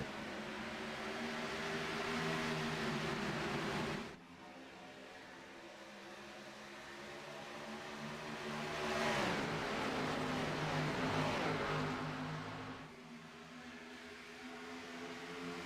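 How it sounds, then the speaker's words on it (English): Xfinity Series stock cars race at Charlotte, engines droning loud and steady with pitch swelling as the pack passes, a sharp cut and a second surge of roaring motors midway. "We're ready to hit the loud pedal and away we go."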